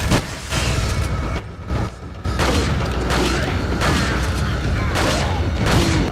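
Shotgun blasts in the Resident Evil 4 video game, loud booms over dense, clattering action with a voice speaking underneath.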